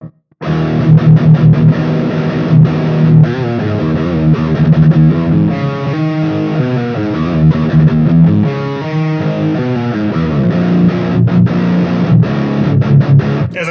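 Electric guitar played through an Apex preamp distortion pedal, heavily overdriven with sustained chords and riffs, loud and continuous, alone without talk.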